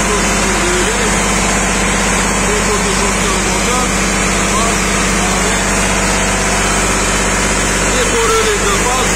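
A diesel engine driving a fire sprinkler pump runs steadily at a constant loud drone, with faint voices occasionally heard underneath.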